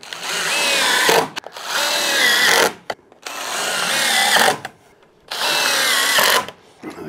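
Power drill driving screws into a wooden step, four long loud whirring bursts with brief pauses between them, close up.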